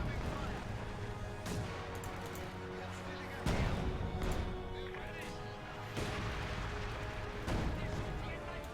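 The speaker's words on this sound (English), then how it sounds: "Mortar is firing." Mortar fire in the World War II strategy game Company of Heroes 2, a few heavy booming thuds spaced a couple of seconds apart over dense battle noise, with a voice talking throughout.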